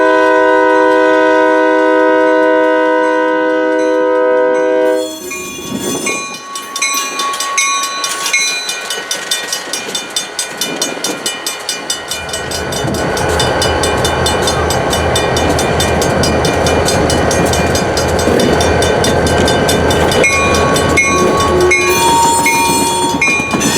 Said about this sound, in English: a light power move consisting of 2 XSP tunnel motors came rolling through